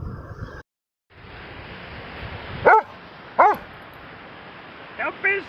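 A dog barks in short sharp bursts, two clear barks then a quicker double bark near the end, over steady background noise of ocean surf after a brief silent gap.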